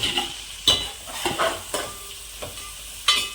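Onion, green chilli, cumin and curry leaves fry in a pan under a low sizzle, broken by sharp scrapes and clinks of a spoon stirring at irregular intervals, close up with no voices.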